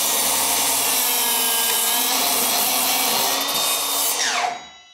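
Milwaukee cordless 7 1/4 inch mitre saw slicing through a 2x6 board, a loud, sustained whining cut at full speed that winds down and trails off in the last half second.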